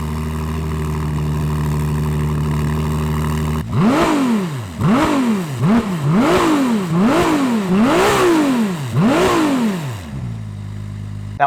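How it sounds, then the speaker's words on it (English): A 2024 Ferrari 296 GTB's centrally mounted exhaust idles with a smooth hum, then barks through a string of about six sharp, rising revs in quick succession before settling back to a low idle, close and loud. "in terms of the exhaust, you get this centrally mounted exhaust, which I think looks really cool and it sounds good."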